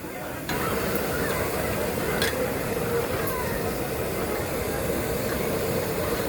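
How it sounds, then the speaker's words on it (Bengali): Fifty-five kilograms of local goat mutton being stir-cooked into kosha in a large vessel, a steady dense rumbling scrape and sizzle running continuously throughout, fairly loud and close, with faint background voices. "মাংস কষানো চলছে।"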